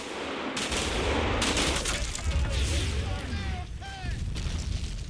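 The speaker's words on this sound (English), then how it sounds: "But they are forced back by a machine gun" Machine gun and battle fire in the World War II strategy game Combat Mission Fortress Italy, dense overlapping bursts and booms of distant combat with a few whistling shell sounds, rolling continuously.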